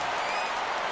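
Stadium crowd cheering and applauding in the baseball video game MLB The Show 17, a dense, steady roar of many voices and clapping filling the whole moment.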